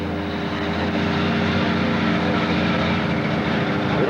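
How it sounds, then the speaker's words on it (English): An alcohol-powered 766 International pulling tractor with a 1500-plus horsepower engine roaring at a 1995 Central City, Kentucky pull, a loud, steady droning snarl held continuously without break. "An alcohol-powered 766 International 360 1500 plus horsepower."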